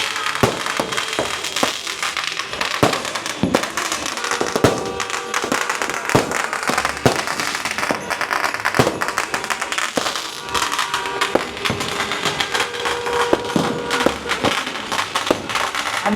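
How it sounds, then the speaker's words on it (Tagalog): Rapid, dense firecracker bursts crackle and pop close by at a home Christmas and New Year celebration, a nearly continuous barrage of sharp bangs lasting throughout. "Ang lapit ng paputok."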